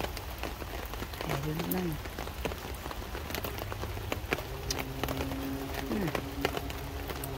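Steady outdoor rainfall patters on surfaces, with scattered sharper drops across a constant wash of noise, while a person speaks briefly and other voices are heard over it.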